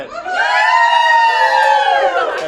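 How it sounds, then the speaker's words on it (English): A live crowd gives a loud, sustained cheer of whoops and shouts at the Marapai Resort on the Pacific island of Niue. It is close and swells quickly into one long roar. "we're supposed to get a big cheer from our live audience here in Niue"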